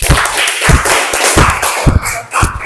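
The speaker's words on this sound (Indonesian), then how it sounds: "kita kasih aplaus untuk temannya" A classroom group claps for the presenting group, loud close applause made of uneven, spread-out claps and taps from a small crowd over a few seconds.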